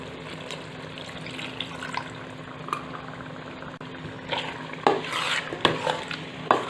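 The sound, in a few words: stirring masala with stock water in pan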